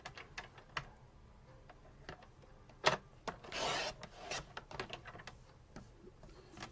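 A paper trimmer slices diagonally through a small panel of card stock, giving a short scraping rasp amid light taps and handling clicks, close and quiet.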